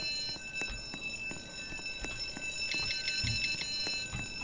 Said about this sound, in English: I'm at the museum right now. I got an alarm going off.